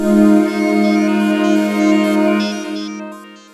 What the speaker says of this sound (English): you have a sound like this that has this like grainy, digital, noisy thing